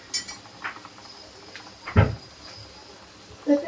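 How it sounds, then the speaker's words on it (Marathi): A lid set down on a pot of chicken korma in a home kitchen gives a single clear metallic clink, with a few fainter utensil knocks before it and another soft clatter near the end. "थोड्या याच्यावर झाकण ठेवूया"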